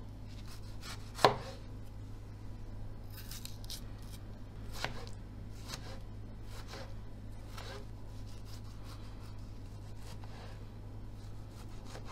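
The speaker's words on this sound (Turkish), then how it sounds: "Domatesimizin kabuğunu soyup minik minik doğrayacağız." A knife finely chops a peeled tomato on a cutting board in soft, steady, close taps after one sharp initial knock, all over a constant low kitchen hum.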